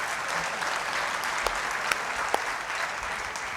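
An audience at an Urdu conference panel on Pakistani TV and theatre claps continuously, a dense, even applause heard at moderate distance for the whole stretch.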